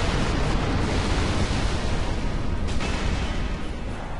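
Explosion in the Dark Souls video game, a dense, loud broadband roar that fills the whole moment with steady rumbling noise and no break.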